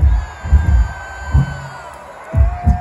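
Concert crowd at a show at Bayfest in San Diego roars and cheers in loud swells, with deep thumping pulses rising and falling beneath the noise.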